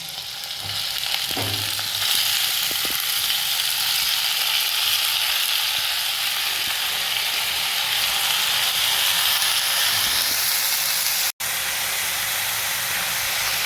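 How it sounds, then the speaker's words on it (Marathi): Green onion leaves and tomatoes fry in a hot pan, giving a loud, steady, close hiss and sizzle that runs unbroken except for one brief cutout near the end, no voices. "आता आपल्याला याच्यामध्ये कांद्याची पात जी आहे ती टाकायची आहे"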